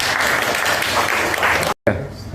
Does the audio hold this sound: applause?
yes